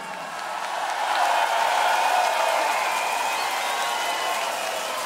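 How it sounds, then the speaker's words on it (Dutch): An event audience applauds volunteers with a steady wash of many hands clapping. The applause swells after the first second and holds fairly evenly for several seconds, without speech over it. "Maar gooi er ook een enorm applaus uit voor al die vrijwilligers die dit vandaag mogelijk hebben gemaakt"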